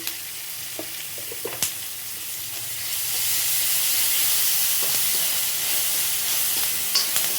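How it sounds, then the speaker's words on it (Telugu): Chopped onions frying in a pan for Telangana-style popu rice (tempered rice), a steady sizzle and hiss that swells louder halfway through, with a few light clinks of stirring and no talk. "ఆనియన్స్ ఇంకొక 2 నిమిషాలు వేగితే చాలు, అంతకు మించి వేగాల్సిన అవసరం లేదు"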